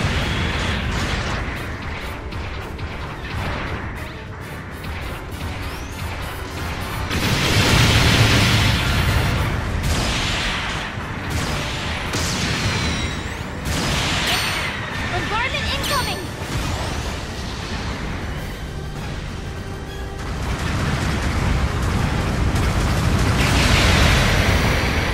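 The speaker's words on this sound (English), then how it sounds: "Long-range support fire incoming!" Long-range artillery support fire in a video game lands in rumbling waves of heavy explosions, swelling loud around the middle and again near the end, with game voices and mechanical noise between the blasts.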